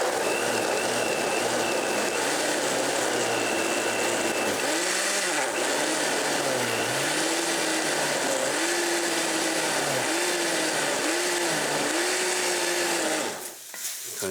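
Blender chopping homemade salsa ingredients, a loud continuous motor whine that dips and rises in pitch as the load shifts, running nearly the whole time before cutting off near the end.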